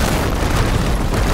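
A video game explosion in Horizon Forbidden West, a dense, loud rumbling boom with broadband crackle that holds steady across its brief length.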